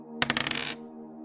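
A single die tumbles across a hard surface in a quick run of rattling clicks that lasts about half a second and then fades, over a steady low background hum.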